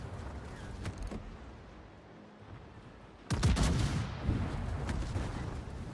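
Heavy booming cannon blasts from a German battleship, the Schlieffen, in World of Warships, one early and a louder roar midway that rumbles on.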